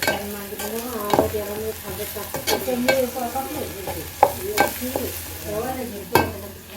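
Onions and spices sizzle on a hot pan over a wood-fired stove while a utensil scrapes and stirs repeatedly, producing irregular clinks over the constant frying hiss.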